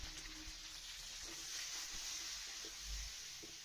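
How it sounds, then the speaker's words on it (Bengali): Vegetables seasoned with turmeric and a little salt fry in a pan for a spinach dish. A faint, steady hiss runs throughout, with a few soft stirring knocks underneath. "এবারে সবজিগুলো একটু ভালোভাবে ভেজে নেব"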